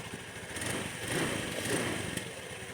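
A Honda Beat or Vario scooter idles smoothly after a crankshaft bearing repair: a steady, even engine hum with no whine, heard close and continuous.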